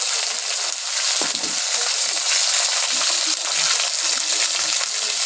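Okra (bhindi) frying in hot oil in a wok, a steady bright sizzle that holds loud and close throughout, with a faint stir or tap partway through.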